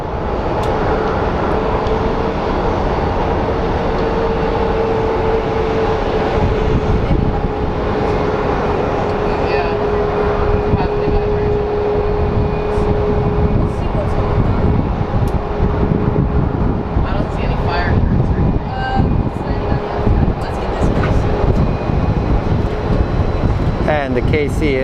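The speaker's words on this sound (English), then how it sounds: "And the KC is airborne, ladies and gentlemen." A KC military aircraft takes off from Sky Harbor International Airport in Phoenix, a steady loud jet roar with a sustained whine, heard through wind buffeting the microphone while people talk nearby.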